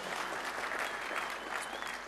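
A brief burst of audience clapping at a Microsoft TechEd 2011 keynote in New Zealand, a dense even patter from a large hall, moderately loud and lasting about two seconds.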